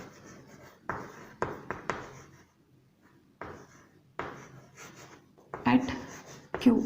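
Chalk or marker scratches across a board in short bursts during a physics lecture on the magnetic field of a toroid, the strokes interleaved with a teacher's speech and brief pauses.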